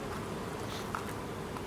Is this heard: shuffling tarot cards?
no